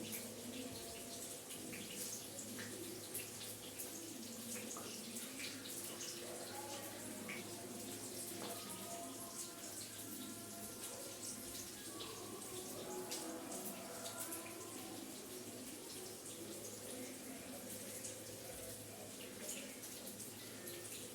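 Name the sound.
tap water running while washing hands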